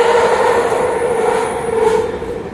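Interior of a driverless Vancouver SkyTrain Expo Line car in motion, a loud continuous rumble with a steady whine and rail hum, no voices over it.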